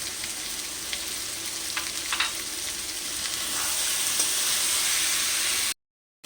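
Chicken seasoned with salt and sugar sizzles and fries steadily in a pan while being stirred, with a bright continuous crackle that grows slightly louder before cutting off abruptly near the end.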